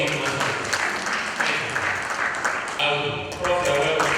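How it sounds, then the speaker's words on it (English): Audience applause at a university commencement lecture: a hall full of people clapping steadily for several seconds, fairly loud, mixed with amplified speech over a public address system. "A round of applause for him."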